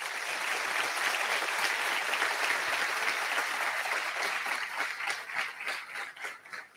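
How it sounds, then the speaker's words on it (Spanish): An audience at a university economics faculty event applauds the non-teaching staff, a dense, sustained round of clapping that holds steady and then thins into scattered, uneven claps toward the end. "si quieren los aplaudimos a los trabajadores no docentes de la Facu"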